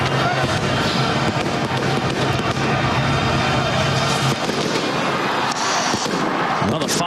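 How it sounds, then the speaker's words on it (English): Fireworks burst continuously at a college football bowl game, a loud dense crackle and booming over crowd roar, with broadcast commentary talking over it. "Well, the fireworks going off."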